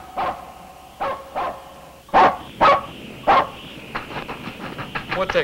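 A dog barks repeatedly outdoors on a winter night, sharp loud barks in uneven bursts, the later ones quicker and more clustered, with no talk over them.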